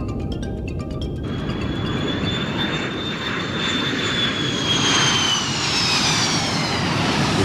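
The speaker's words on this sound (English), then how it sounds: "this is Boeing's remarkable B-52 Stratofortress" Boeing B-52 Stratofortress bomber jet engines roar in flight with a steady, loud whine and broad rushing noise that holds throughout without any voices.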